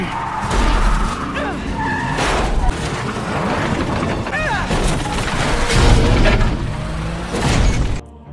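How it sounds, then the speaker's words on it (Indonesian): In a film action scene, a car is cut off and flipped over: tires skid and screech amid loud crashing impacts and rumbling engine noise, with dramatic music beneath and a narrator talking over it. "Will pun berhasil mencegat mobil Charak dan membuatnya terbalik."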